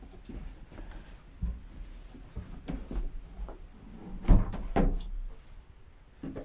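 A door on a wooden hunting deer stand is worked open and shut, giving a series of dull knocks, rattles and thuds, with a louder clunk near the end, close and without speech.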